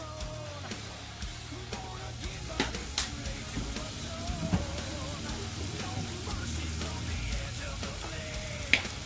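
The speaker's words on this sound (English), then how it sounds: "Fry up that meat a little bit to set off the flavor" Meat frying in a pan for chili dogs, a soft steady sizzle with faint crackles and occasional clinks, low in level and heard without talk.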